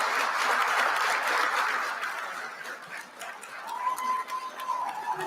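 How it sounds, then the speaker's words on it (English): Applause from a ceremony audience welcoming the AVC Class of 2022 at a white coat ceremony, a dense steady clapping that fades somewhat midway, with a faint voice or tone rising near the end. "Please join me in a big round of applause."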